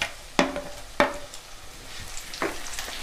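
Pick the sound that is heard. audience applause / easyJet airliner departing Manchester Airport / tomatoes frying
tomatoes frying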